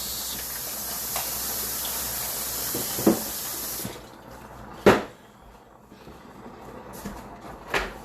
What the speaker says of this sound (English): This cutting board had spinach on it. Gonna give it a quick rinse.